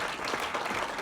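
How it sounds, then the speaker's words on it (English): Brief burst of steady applause from the audience at a boxing post-fight press conference for Conor Benn, fairly soft and even. "round of applause for Conor Benn."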